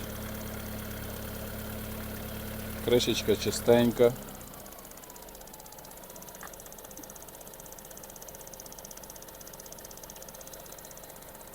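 A Volkswagen Golf IV engine idles steadily with a low, even hum, briefly interrupted by a few clunks and a short spoken remark.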